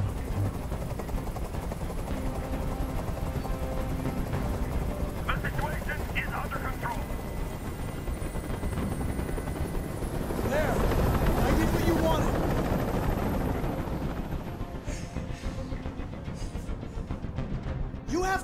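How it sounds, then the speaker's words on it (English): A helicopter hovers overhead in the Detroit: Become Human video game, its rotor drone a steady, loud wash that runs through the whole stretch and swells near the middle, with voices talking over it. "I can't stand that noise anymore. Tell that helicopter to get out of here."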